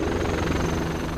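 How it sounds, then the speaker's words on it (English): Eurocopter Tiger twin-engine combat helicopter, a brief, dense rotor and turbine roar with rapid pulsing throughout, loud and steady with no voices. "Agile and responsive best describe the Eurocopter Tiger, a twin-engine, multi-role combat helicopter designed and produced by Airbus"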